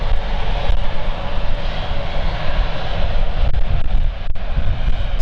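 Embraer E190-100LR jet airliner at London City Airport, a steady, loud engine roar that holds broad and constant throughout with no voices.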